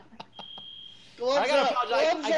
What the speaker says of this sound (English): The alarm keeps going off in my apartment